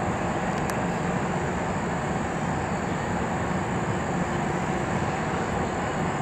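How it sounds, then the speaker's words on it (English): A freight train on the CSX line passes close by with a continuous, loud, broadband rumble and rattle that holds steady throughout, with a faint high squeal above it. "Another train's coming on the CSX side"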